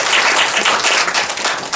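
Audience applause breaks out at a professor's lecture, a dense, steady wash of many hands clapping that fills the room for the whole stretch without letup.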